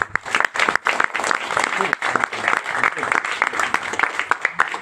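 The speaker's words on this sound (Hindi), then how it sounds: "ताली अपने लिए बजा सकते हैं।" An audience applauds in bursts with scattered sharp claps, moderately loud, mixed with voices talking over the clapping.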